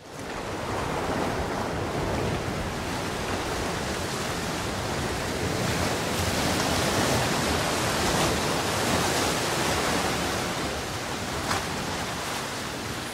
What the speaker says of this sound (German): ich möchte euch zeigen, wie sich das anhört, wenn diese Wellen heranpreschen.